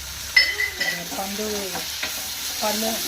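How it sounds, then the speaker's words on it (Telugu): Onions, curry leaves and tomato fry in a pan for Bombay chutney, with a steady close sizzle and a few clinks and scrapes of stirring, while a voice speaks briefly over it. "ఇది వేగుతుంది కదా"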